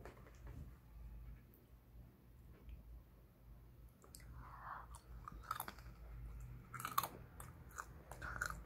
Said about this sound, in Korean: 견과류는 꿀을 찍어 먹어요.